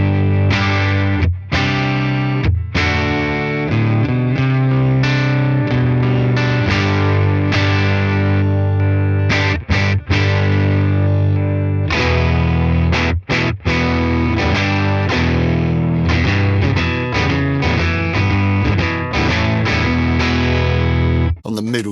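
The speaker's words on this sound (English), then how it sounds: "let's drop the attenuation now, and we're going to push the level up. We can start to get some pushed clean tones" Electric guitar played through a Tone King Imperial preamp pedal set for pushed clean tones, loud, slightly driven chords and notes ringing out alone in a steady run with brief gaps.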